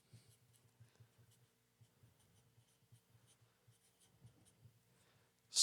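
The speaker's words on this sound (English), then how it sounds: "I'll try to write this as fast as I can." Pen scratches across paper while a letter is handwritten quickly: faint, close, rapid strokes in an irregular rhythm, with one sudden louder bump at the very end.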